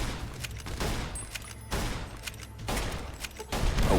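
Explosions and gunfire in the video game Fallout: New Vegas, a loud, continuous barrage of booms and rapid shots with repeated sharp bursts throughout.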